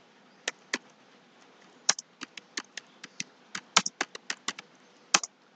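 Bengali names being typed on a computer keyboard, irregular crisp key taps in quick bursts with short pauses, close and clear with no voices.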